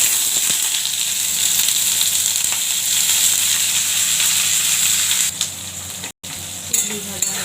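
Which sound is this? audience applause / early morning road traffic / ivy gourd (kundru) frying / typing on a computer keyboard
ivy gourd (kundru) frying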